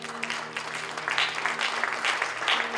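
Congregation applauding during a church service, a steady wash of many people clapping at moderate volume over a sustained low organ-like tone, with the sound of the crowd rising in swells.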